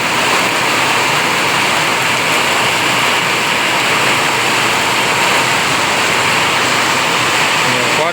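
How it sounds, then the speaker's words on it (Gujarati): Heavy rain pounds a tin sheet roof on a farm, making a dense, steady roar that stays loud and unbroken from start to finish with no voices. "પતરામાં વરસાદ ભૂકા કાઢે એવો વરસાદ આવે."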